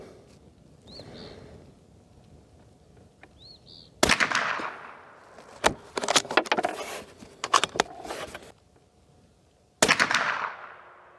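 Rifle shots are fired at a target outdoors. Sharp, loud cracks ring out at irregular intervals, with a few sharp reports and clattery bursts between stretches of quiet that carries faint bird chirps.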